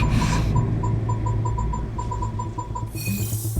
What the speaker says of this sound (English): There's the sound of electro zapping in the air.